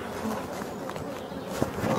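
Bees buzzing softly around a hive of black bees, a faint steady insect drone close by with light rustling movement in the grass, no voices.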